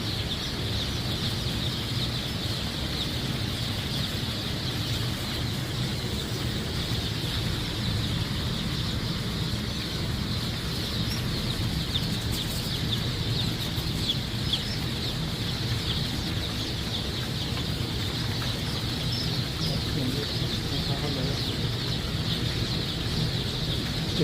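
Young chicks crowd around water on a poultry farm, a dense continuous chorus of peeping and soft clucking from many birds that stays steady and close from start to finish.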